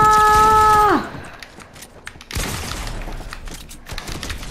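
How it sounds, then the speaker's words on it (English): Fortnite gameplay with SMG gunfire: a tonal electronic tone cuts off, then bursts of rapid game shots and impacts rattle on, loud and close, with a brief shout near the start. "I'm gonna have to clip you with an SMG then."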